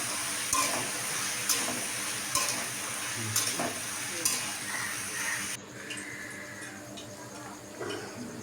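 A pointed gourd and potato curry cooking in a pan, a steady sizzle with periodic spatula stirs and scrapes that eases to a softer simmer partway through.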